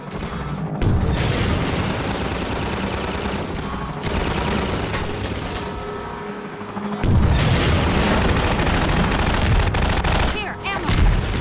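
A gunship battle in the video game Half-Life 2 roars with loud booms, rapid gunfire and explosions from rocket launchers, dense and continuous with heavy blasts surging near the middle and end.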